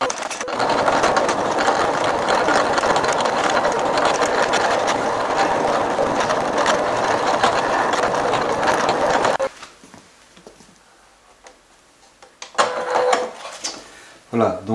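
A cutting machine whirs and chatters busily for about nine seconds while cutting out a Halloween ghost shape and letters, then stops, followed by quieter clicks and handling sounds as someone speaks.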